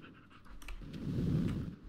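A dog pants close by in short, rapid breaths mixed with light scratching sounds, growing louder toward the middle before easing off.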